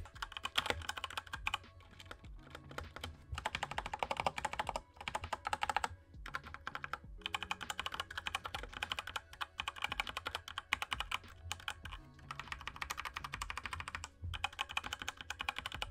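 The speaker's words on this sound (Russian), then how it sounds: "Предлагаю вам послушать звук клавиатуры." Rapid, continuous clacking of a GMNG GG KB785XW mechanical keyboard, typed in fast bursts with brief pauses, close up and crisp.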